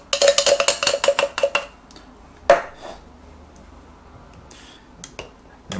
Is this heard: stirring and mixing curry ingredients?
yes